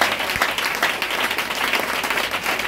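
A church congregation claps in continuous, dense applause, loud and close, that holds steady throughout without breaks.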